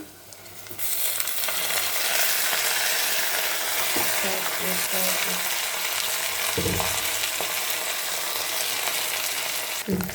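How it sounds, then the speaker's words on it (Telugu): Toor dal frying in a hot pan while making menti pappu, a loud, continuous bright sizzle that swells in after a quiet start, with a few scraping stirs near the middle and end. "వన్ మినిట్ వరకు మనం ఇప్పుడు బ్యాళ్ళని ఫ్రై చేయాలి"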